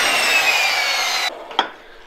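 A grinder cutting an engine valve seat at 22 degrees gives a steady, close, bright abrasive whir for over a second, then stops, leaving a few short scrapes and taps.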